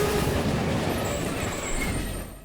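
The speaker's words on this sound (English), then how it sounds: "A complete train wreck?" A train wreck sound effect plays as a loud, continuous rumbling roar of rail noise that holds steady and then fades at the end.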